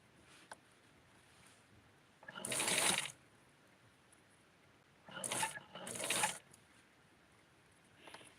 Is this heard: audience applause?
no